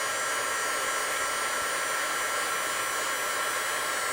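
A heat gun heating metal pieces against a tile for powder coating blows hot air in a steady, even hiss. The rushing noise stays constant and close throughout, with no talk.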